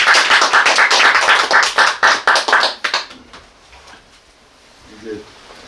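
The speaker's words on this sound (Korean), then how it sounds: "우리 한번 다시 뜨거운 박수로 다시" Audience applause at a Korean literary talk concert honoring a poet, with dense clapping for about three seconds that thins into a few scattered claps and then fades into quiet room murmur.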